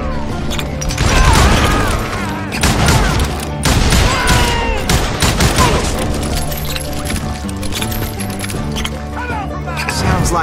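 Dense, loud gunfire from many gunmen in the Call of Juarez Gunslinger video game, with overlapping shots and crashes running continuously throughout.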